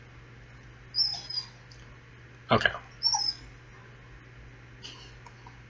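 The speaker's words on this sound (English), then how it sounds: "my dog sees a squirrel or another dog" A dog on a walk gives a few short, high whimpers and squeaks after spotting a squirrel or another dog, faint and intermittent, with a brief rustle and a little speech nearby.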